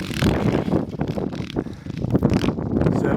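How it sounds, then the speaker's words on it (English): Wind buffeting a microphone outdoors on open eastern Colorado freeride terrain, a short stretch of loud, gusty rumbling with uneven surges and flutter. "here I am sitting on the side trying to stay out of the wind so you guys can hear"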